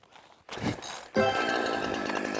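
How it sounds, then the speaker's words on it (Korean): A chainsaw is started before cutting a large acacia tree: a short sputtering attempt, a brief pause, then the engine catches and settles into a loud, steady buzzing idle nearby. "자, 기계톱 시동을 겁니다."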